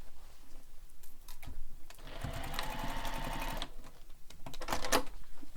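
A sewing machine bastes fabric pieces for a bag, running in a steady burst of rapid stitching with softer handling noises before and after.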